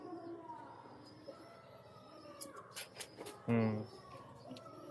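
A pigeon coos faintly, with a brief low throaty call near the end over quiet background noise and a few thin chirps.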